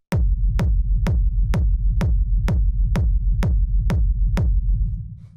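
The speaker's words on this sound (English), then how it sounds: "So this is a pretty standard techno kick." Standard punchy techno kick drum sample at 127 BPM, ten evenly spaced deep booming thumps with short clicky attacks, loud and alone, with the last one ringing out.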